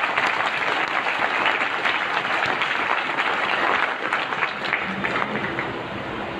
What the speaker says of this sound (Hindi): आप सबके लिए एक बार जोरदार तालियां